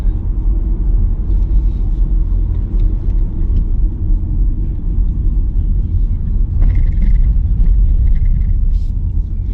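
A car drives off-road on the long dirt track out to the lighthouse at Punta de Jandia, Fuerteventura, a loud steady engine and tyre rumble inside the cabin with a brief rattle or bump partway through.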